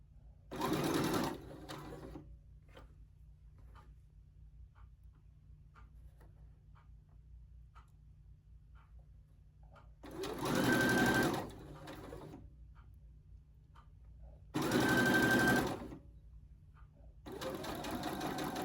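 A regular home sewing machine stitches a T-shirt neckline up toward the shoulder seam, in three short whirring bursts of about a second each, separated by quiet pauses with faint ticks.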